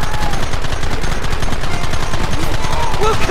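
Dense rapid gunfire during a shootout in the video game Red Dead Redemption, loud and continuous with overlapping shots, while shouting voices sit underneath.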